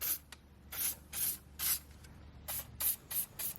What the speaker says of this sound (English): Lanox is a lanolin-based spray which is derived from sheep's wool.